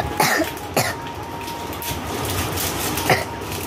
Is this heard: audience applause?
no